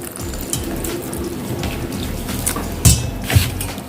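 Melted jaggery is poured little by little into a mashed banana and flour batter for unniyappam, producing a continuous close, splashy trickling with a couple of louder liquid plops near the end.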